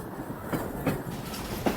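Heard from inside a moving train, a steady rumbling rail noise with a few soft rhythmic wheel clacks spaced under half a second apart, fairly quiet and without talk.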